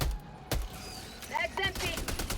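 SMG gunfire in the video game Helldivers 2, short bursts of rapid shots mixed with other game effects, with a voice talking.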